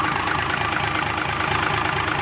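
A diesel dump truck engine in top running condition, smoking white, idles steadily and loudly up close, with a continuous low rumble and a faint knocking texture throughout.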